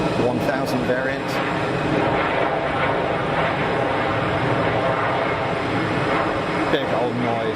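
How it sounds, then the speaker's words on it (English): An Iberia airliner lands at Geneva Airport, its engines roaring steadily on reverse thrust throughout, a loud broadband rush that stays dense and unbroken from start to finish. "Big old noise, armful of throttle on the reversers, get that thing slowed up"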